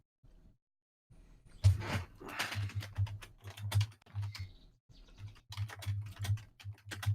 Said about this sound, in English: Oh no, he's typing.